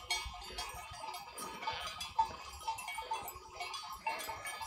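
A flock of ewes bleats across a mountain pasture, scattered overlapping calls near and far over an open outdoor background.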